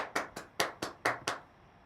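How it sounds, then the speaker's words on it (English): Six separate sharp claps spaced evenly, crisp and fairly close, ending abruptly — a thin, brief burst of applause welcoming a speaker onto the stage at a speaking contest. "please help me welcome to the stage with a round of applause, Rocco Wells."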